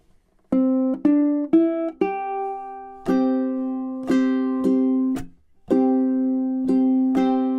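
Ukulele strumming the verse of a song, with crisp separate strums and chords in an uneven rhythm, some ringing out with bright overtones, close and alone without talk.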